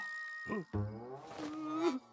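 A cartoon bear roar in a French children's animated show, a short growling roar rising and falling over about two seconds, made up rather than a real bear.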